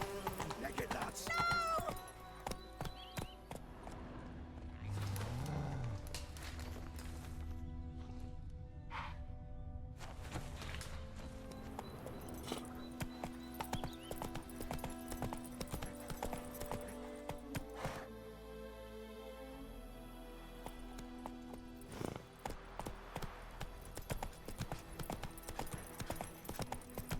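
Roach the horse's hooves clip-clop steadily through a game world in The Witcher 3, with an occasional whinny, heard under ongoing music and a man's spoken lines.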